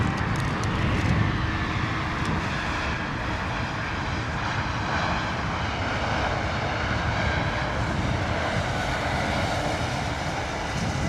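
An airliner lands at London Heathrow in wet, windy weather, giving a loud, continuous jet engine roar with rumbling low end and a rising whine, steady for the whole stretch with no voices.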